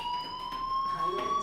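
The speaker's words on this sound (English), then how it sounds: "do you hear that fire alarm? That means you should be outside." A steady electronic fire alarm in the video game Life is Strange rings continuously as a sustained high tone, loud and unbroken, with faint background sounds beneath.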